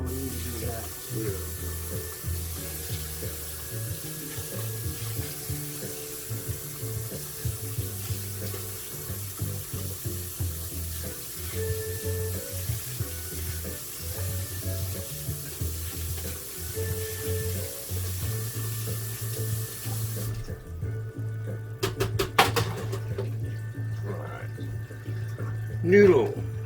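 Steady running water from a kitchen sink tap while instant Mamee Chef Mi Goreng Rendang noodles are drained, a constant rushing flow with a low hum, broken near the end by a few clunks and handling knocks.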